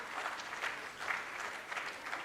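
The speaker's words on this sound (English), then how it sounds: "They want to clap for all of you all." Audience applause at a session of an international religious conference, a steady round of clapping from a gathered crowd, moderately loud and continuous with slight swells, no voices over it.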